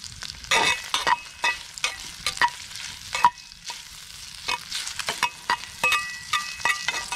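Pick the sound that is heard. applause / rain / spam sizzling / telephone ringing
spam sizzling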